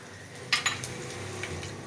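Tempering of curry leaves and asafoetida in hot oil in a pan for a Malvani kokum saar gives a faint, steady sizzle, with a few sharp metal clinks of a utensil against the pan near the start.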